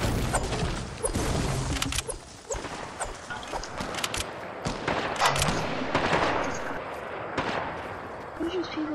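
Rapid gunfire in a video game, shots crackling from near and far in dense overlapping bursts for the whole stretch, with player voices talking over the shooting.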